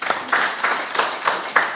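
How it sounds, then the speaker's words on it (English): Clapping from an audience at a graduation ceremony, a few short bursts of handclaps that come and go at a moderate, fairly close level. "I would like to clap for him again."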